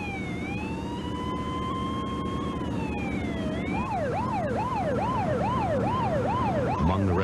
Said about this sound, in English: As the ambulance headed for the hospital